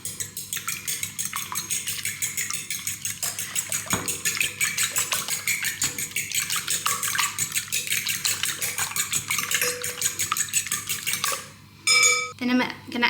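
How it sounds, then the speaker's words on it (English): Dense, rapid clinking of a whisk against a bowl as five eggs are lightly beaten for a zucchini slice, a steady close scraping rattle running throughout with a brief pause and clatter near the end. "I'm going to add 5 eggs to my bowl and just lightly whisk them"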